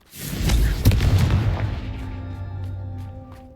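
A Confringo fire spell explodes in the video game Hogwarts Legacy: a loud, close blast with a heavy low boom that swells and then slowly fades, a sharp crack in the middle, and no talking.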